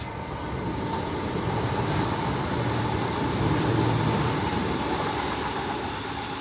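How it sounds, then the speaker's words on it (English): A train rolls past at dusk, a steady broadband rumble and rushing clatter that holds level for several seconds and swells slightly near the middle, fairly close, with no talking. "Even when the train went past"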